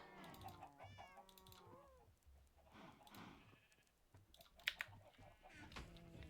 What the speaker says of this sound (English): I really do need to cut down on the chickens.